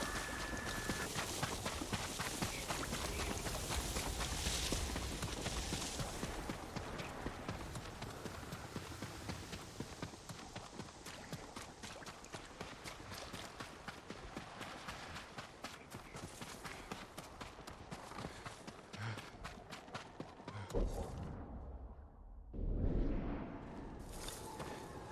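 Rapid rhythmic hoofbeats of a galloping horse in Ghost of Tsushima thud on without pause, loud and steady, with rushing wind and a brief break near the end.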